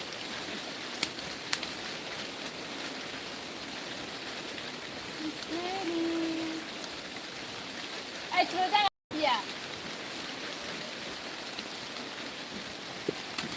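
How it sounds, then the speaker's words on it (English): Rain falls steadily in an African village, a continuous close hiss with scattered drops, while a brief voice cuts in near the middle before the downpour carries on alone. "Guys, let's go. It's raining."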